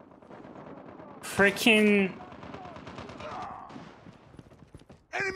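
M4 LMG fire in Call of Duty Mobile: rapid, steady automatic shots rattle through the whole stretch under a player's voice, with a louder burst near the end.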